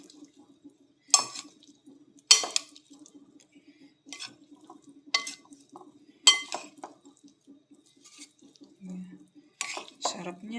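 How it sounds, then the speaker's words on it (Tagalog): Potato and carrot salad tossed in a bowl, a series of separate clinks and wet knocks from a utensil against the bowl, spaced a second or so apart, close and fairly loud. "Siyempre, haluin natin."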